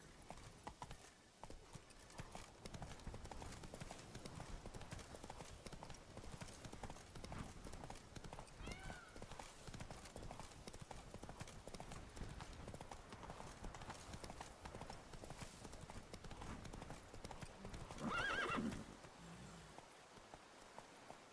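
Hooves pound in a steady gallop for a horse in Witcher 3, a rapid clip-clop with a rain-like wash underneath, and a brief louder burst near the end.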